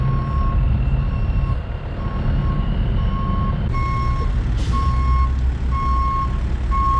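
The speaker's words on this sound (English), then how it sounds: "Should be able to get the truck back in here now." A truck backing up at a grading site, its reversing alarm sounding a steady run of evenly spaced beeps over a loud, continuous engine rumble, with a brief air-brake hiss partway through.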